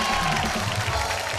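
A studio audience claps and cheers in a dense, continuous burst of applause welcoming the judges at a televised show, with a faint voice under the noise.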